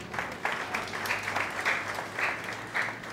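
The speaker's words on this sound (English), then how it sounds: "Can you give God a clap offering?" Wedding guests in Lagos break into applause as a clap offering during the ceremony, a continuous wash of many hands clapping with rhythmic swells, moderately loud and unaccompanied by speech.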